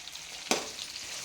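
Tomatoes dropped into hot oil over fried onions for a spicy brinjal palya give one short, sharp sizzling burst that rises above a steady, close hiss and then settles. No voices.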